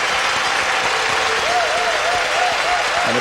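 A French arena crowd at the 1997 World Figure Skating Championships applauds an ice dancing free dance, a loud, continuous roar of clapping with a faint wavering tone running through it.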